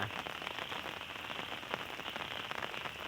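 Heavy rain pours down steadily and loudly, a dense, continuous hiss of drops drumming on surfaces with no voices.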